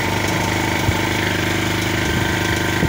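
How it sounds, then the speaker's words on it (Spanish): Water pump motor running off a Gamma 950 W portable generator, a steady loud mechanical drone with a rapid rattling pulse, continuous and close throughout. "Ahí encendió la bomba. ¿Escucharon el ruido que hizo?"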